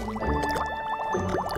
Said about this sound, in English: Just smack the water.